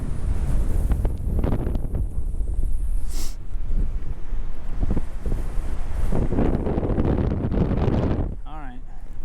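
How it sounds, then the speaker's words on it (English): Strong coastal wind buffets the microphone on the Shimane coast in Japan, a continuous loud roar with gusting rumble throughout, with occasional speech mixed in. "it is like crazy windy today"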